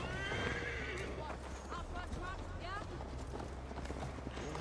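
Horse in Assassin's Creed Valhalla giving a loud, shrill whinny near the start, followed by hooves clip-clopping steadily under voices that carry on talking.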